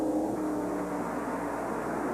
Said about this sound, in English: Now Bodine pulls out, and he's gone.